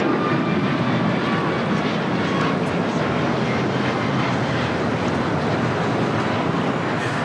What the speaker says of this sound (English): 1416 taking off to Houston Intercontinental on a MAX 9